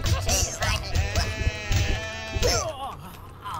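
Sheep in a video game bleat loudly and repeatedly at close range, several wavering cries overlapping one another, with game effects between them.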